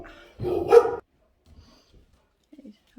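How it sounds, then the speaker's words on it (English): A house dog barks in a short burst of a couple of loud, close barks indoors, followed by a few faint quieter yips. "my dog's just barking at people outside"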